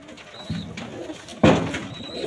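Racing pigeons from a loft flown in 100 km races, giving soft, close, low cooing calls in two short bursts, the second louder, with a faint higher whistle-like tone behind them.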